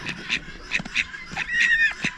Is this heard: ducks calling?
yes